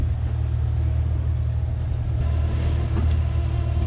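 Inboard engine of a Hallberg-Rassy 54 sailboat motoring into a headwind, a steady low droning rumble that holds constant throughout with faint wind and water noise above it.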